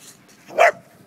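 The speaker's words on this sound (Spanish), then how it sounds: "está liando aquí el perro" A single short dog bark or yelp, fairly close, rising briefly out of quiet background hum.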